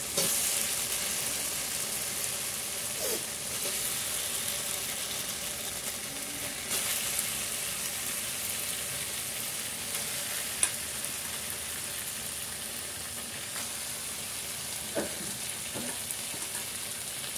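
Chicken pieces sizzle and fry with spices in a pan, a steady loud crackling hiss running throughout with occasional stirring scrapes.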